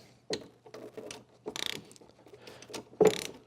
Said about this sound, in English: you can just hand thread that in there and then move to your ratchet